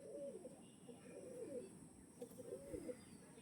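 Panja pigeons coo softly nearby in a repeated low, throaty, rolling pattern, several coos following one another over a faint background hum.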